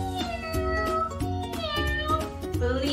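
A person imitates a kitten with a run of quick, high meows, repeated steadily and close over bright, continuous music.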